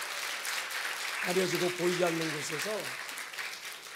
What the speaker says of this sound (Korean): 우리 방송실 박수 한번 쳐주십시오.